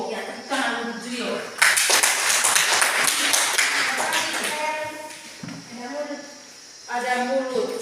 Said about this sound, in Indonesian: tepuk tangan untuk Julio